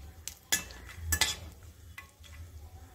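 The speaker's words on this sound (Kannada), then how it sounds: "ನಾನಿವತ್ತು ಇದಕ್ಕೆ ಬಾದಾಮಿನ ಹುರಿದು ತಗೊಳ್ತಾ ಇದ್ದೀನಿ" Almonds roasting in ghee in a pan for carrot halwa, a few quick stirring scrapes and clinks over a faint low sizzle, close and brief.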